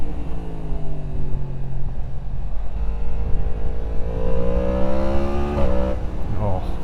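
2023 Yamaha MT-10 motorcycle engine running continuously, its pitch rising and falling with throttle revs, loud and close throughout.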